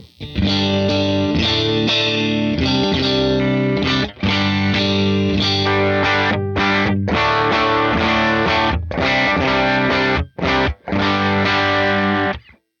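Electric guitar played through a Tonex amp simulator on a near-clean tone with no reverb or ambience: loud, full chords and ringing notes strummed continuously, with a few brief stops between phrases.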